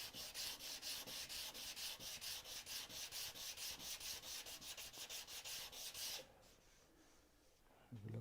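Hardwood and softwood box lid with finger joints being sanded by hand, a steady rhythmic back-and-forth rasp of paper on wood for about six seconds, close and loud, then stopping.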